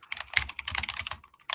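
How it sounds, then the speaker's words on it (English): Quick, uneven clatter of fingers typing on a computer keyboard, close and crisp, with brief pauses between bursts of keystrokes. "what are you typing? Where are you typing?"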